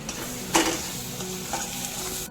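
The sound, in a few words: frying tomatoes in a pan for dal tadka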